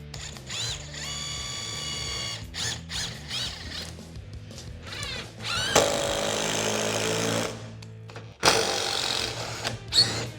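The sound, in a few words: impact driver driving large screws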